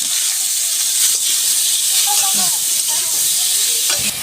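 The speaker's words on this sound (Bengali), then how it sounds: "এবার আমি আলুটা ভেজে নিচ্ছি এতে আমি অল্প একটু নুন দিচ্ছি হালকা একটু হলুদ দিচ্ছি" Potatoes fry in a pan with a little salt and turmeric, a loud, steady, close sizzle that carries on throughout, with faint stirring scrapes mixed in.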